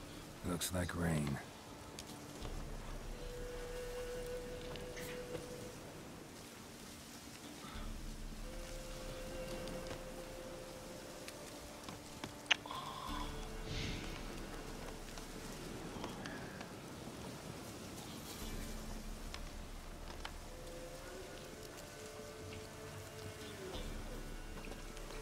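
Steady rain falls in The Witcher 3 on PC, a continuous hiss running through the whole stretch, with low rumbles, brief clatters and a voice or two breaking in over it.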